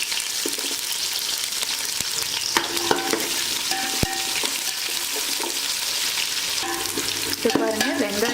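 Small onions sauté in hot oil with whole spices and curry leaves for a crab masala, a continuous close sizzle punctuated by the clack and scrape of a stirring spoon against the pan.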